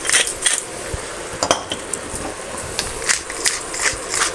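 Wilting spinach is stirred in a big cooking pot, with irregular metallic scrapes and clinks of a utensil against the pot over a soft, steady sizzle. No voice is heard, and the sound is close and moderately loud.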